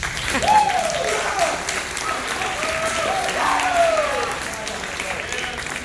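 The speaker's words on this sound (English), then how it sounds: "You can clap for him." Guests at a high school varsity soccer banquet applaud a coach in a warm, steady wave, while voices carry over the clapping throughout.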